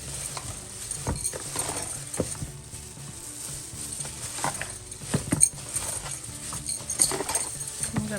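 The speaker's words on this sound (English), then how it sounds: "I'm just going to stir all this together" Jerk chicken with pineapple is stirred in a pan, with repeated scraping strokes and soft clacks over a faint sizzle, fairly close.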